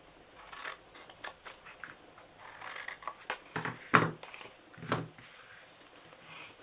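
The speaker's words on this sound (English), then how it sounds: "Cut down here. And we're going to cut this side as well." Scissors cutting paper for a scarecrow treat box: a series of close, crisp snips and rustles of varying strength, one sharper cut standing out, in a quiet room.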